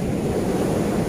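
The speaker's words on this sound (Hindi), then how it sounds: "और पानी का यहाँ पे जो है ना बहुत ज़्यादा शोर है" Sea waves on Candolim beach in Goa make a loud, continuous roar of surf with windy noise on the microphone and no voices over it.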